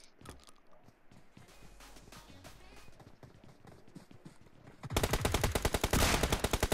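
Rapid gunfire bursts in the mobile game BGMI, a dense rattling volley that erupts loud in the final seconds after quieter game ambience, with a player's voice faintly present.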